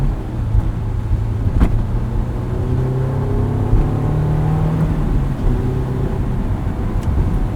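A 2001 Honda S2000 on X-Ice winter tires drives through snow, its engine a steady low drone with rising and falling pitch as it pulls along, a couple of sharp knocks punctuating the run.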